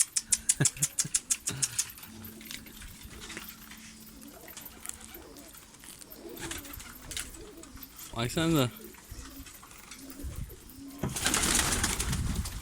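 Pigeons coo and shuffle close by inside a loft, with a brief flurry of flapping wings; a person speaks briefly and a dog-like bark sounds near the start.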